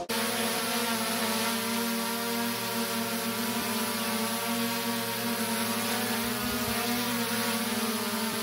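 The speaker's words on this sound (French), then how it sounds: "comparons le haut bruit que fait un drone Mini, toujours chez DJI" A DJI Mini drone hovers close by, its propellers producing a steady, loud, high-pitched buzzing whine that holds constant throughout.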